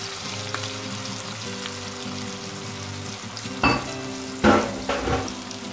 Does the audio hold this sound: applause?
no